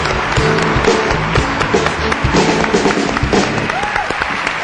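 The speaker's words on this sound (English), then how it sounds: "Let's give a round of applause to the 6 dedicated eco and humanitarian organizations." Audience applause at a fifth-anniversary celebration and musical honoring eco and humanitarian organizations, a steady dense patter of clapping mixed with faint music and occasional thumps, fairly loud throughout.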